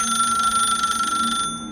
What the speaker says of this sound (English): The phone sat on the nightstand, the receiver trembling slightly with each ring.